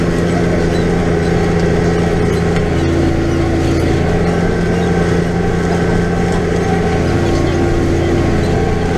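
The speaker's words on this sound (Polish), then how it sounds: "Większy opór, to ciągnik już ma ciężej." A Deutz Fahr 6.45 tractor engine labors steadily under load while pulling a disc harrow through corn stubble, a loud continuous drone with a constant hum throughout.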